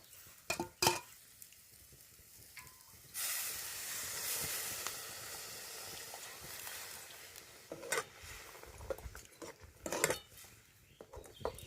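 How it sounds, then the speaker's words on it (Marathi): Water poured into a pan of hot fried masala paste for a Malvani fish curry bursts into a loud, steady hiss and steam for several seconds, framed by clanks of utensils and scraping before and after. "आता आपण हे पाणी पण घालूया"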